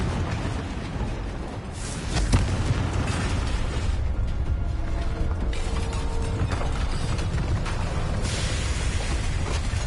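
A Confringo explosive spell in Hogwarts Legacy aimed at a drill, a burst followed by loud, steady mechanical rumbling and clanking with occasional pops, sustained and close throughout.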